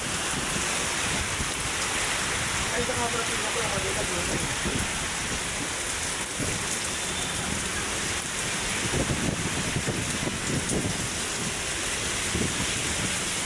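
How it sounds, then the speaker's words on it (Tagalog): Heavy storm rain at Manila Bay pours down in a dense, steady hiss, with a faint voice murmuring underneath at times. "Ang lakas-lakas ng ulan."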